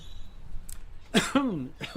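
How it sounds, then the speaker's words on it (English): A cough on an outdoor verandah during a relaxed acoustic livestream, one short burst at close range, followed by a voice speaking in a warbling, sing-song way. "I just coughed into the"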